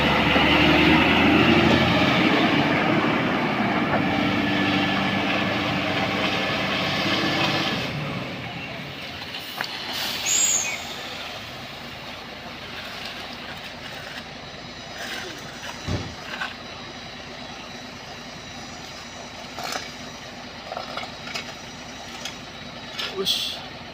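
A truck engine revs hard on a road slicked with spilled CPO palm oil, a loud sustained roar for about eight seconds before dropping to a quieter idle, with voices talking over it.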